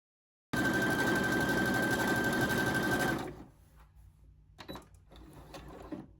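A regular sewing machine stitching an overcast stretch stitch along a T-shirt neckline: a loud, close, steady motor whir with rapid needle clatter for about two and a half seconds, then stopping, followed by quieter handling noises.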